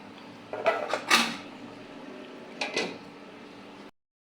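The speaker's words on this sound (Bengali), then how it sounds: "এখন আমি ঢাকনা দিয়ে ঢেকে দেবো" A lid goes onto a pot of rui fish and pumpkin curry with a couple of clattering metallic knocks, followed by another brief clank, close and fairly quiet.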